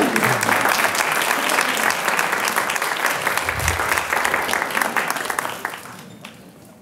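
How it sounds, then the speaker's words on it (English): Audience at an ethics competition prize announcement applauds steadily for several seconds, dense clapping that fades out near the end, with a faint voice briefly underneath. "Give them a round of applause."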